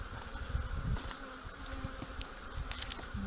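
A dense, steady buzzing of many honey bees close by at an open hive, with low rumbling handling noise underneath.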